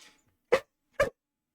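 A dog gives two short, close whimpering yelps about half a second apart in a quiet indoor room, each vocalization brief and alone.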